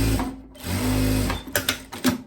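Close by, a sewing machine stitches a seam on a blouse for a crossover neckline, giving a steady mechanical hum that breaks into quick clattering bursts as the stitching stops and restarts, with no one talking.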